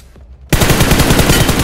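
Rapid automatic gunfire in the mobile battle-royale game BGMI bursts in loud and close, a sustained rattling stream of shots after a brief quiet moment.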